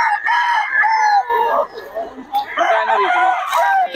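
A sweater gamefowl rooster crows loudly and close by, two crows in quick succession. People talk nearby between and over the calls.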